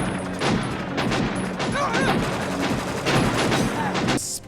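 Gunfire from a Jean-Claude Van Damme action movie: dense bursts of shots and rapid automatic fire mixed with a busy film soundtrack, loud and continuous across the short stretch.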